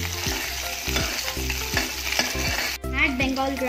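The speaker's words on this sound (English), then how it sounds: "Add ginger, chili and curry leaf." Ginger, chili and curry leaves fry in a hot pan for a masala dosa filling, a steady loud sizzle broken by repeated stirring scrapes, with a brief dip and then a sharper burst of crackling near the end.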